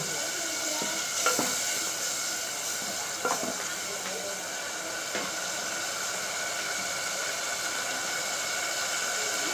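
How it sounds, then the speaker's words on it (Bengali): Spices being fried down in oil in a pan for a home-cooked greens dish give off a steady, dense sizzle, close and even, broken by a few soft scraping stirs. "ভালো করে মশলাটাকে কষিয়ে নেবো"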